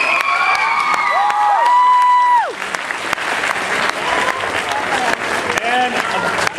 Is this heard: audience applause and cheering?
yes